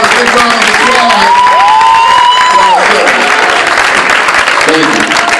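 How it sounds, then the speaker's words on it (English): A live audience at a stage hypnosis show gives a big round of applause, loud continuous clapping with cheering, while a gliding musical tone sounds over it mid-way. "How about a big round of applause?"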